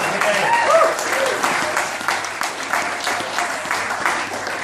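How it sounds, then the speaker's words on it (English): Audience applause fills the room, a sustained burst of many hands clapping that holds steady and slowly thins, with faint voices underneath. "So please, give them a round of applause."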